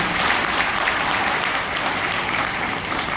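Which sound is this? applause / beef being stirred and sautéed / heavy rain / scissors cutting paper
applause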